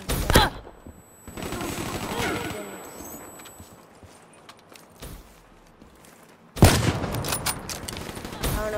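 Gunfire in Call of Duty: Black Ops III, loud bursts at the start and again after a quieter stretch, with sustained rattling fire and some movement noise in between.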